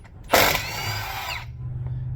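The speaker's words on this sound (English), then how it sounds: "So right now we're taking off these 1/2-inch bolts or nuts with a 3/4" A power tool whirs loudly for about a second as it spins off half-inch bolts on a military forklift, then cuts out, leaving a low engine hum underneath.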